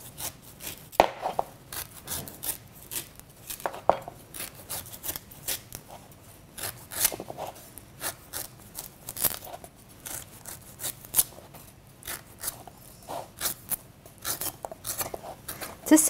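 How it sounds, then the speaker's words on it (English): A knife chopping and cutting the top off a fresh coconut, a long run of sharp, irregular woody knocks and scraping crunches, close and moderately loud, with no talking. "we're using the meat of one coconut. So we'll just take the top off."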